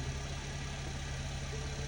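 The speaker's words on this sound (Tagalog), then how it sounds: "tahimik naman yung engine, walang knocking sound" Honda Civic FD engine idling, a steady even hum with a low drone, close and unbroken, no voices present.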